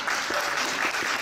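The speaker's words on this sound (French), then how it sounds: "on peut applaudir aussi." Studio audience and crew applaud during a live broadcast, a brief, steady wash of clapping at moderate level for about a second.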